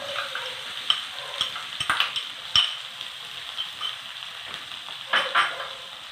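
Ginger, onion and carrot are stirred in a pan after mustard seeds have popped, for a herbal curd rice. A soft sizzle runs throughout, with scattered scraping taps from the spoon and no speech.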